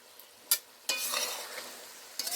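A spoon scrapes and stirs puti fish curry in a pan after mustard oil is added, giving a sharp knock followed by a longer scraping sizzle and another brief clatter, with no talking.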